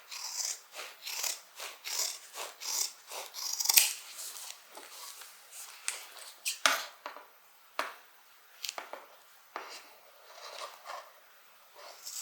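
Sharp scissors snip through the fabric side seam allowances of a Compton Carryall Bag in a quick, uneven run of close, crisp cuts, with brief pauses between strokes.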